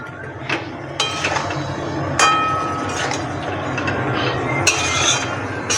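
Metal utensil stirring vegetables and fish in a cooking pan with softened eggplant, giving a few sharp clinks and scrapes over a steady background sizzle, close and moderately loud.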